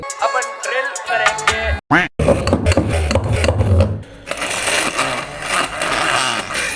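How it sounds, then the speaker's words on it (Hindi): An electric drill bores through plastic while a homemade Beyblade is being made. It gives close, whirring bursts that start and stop, with brief gaps, then a steadier grinding run toward the end. "अपन ड्रिल करेंगे"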